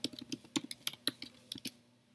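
Quick bursts of keystrokes on a computer keyboard, about a dozen close, crisp clicks in an uneven rhythm that trail off into quiet.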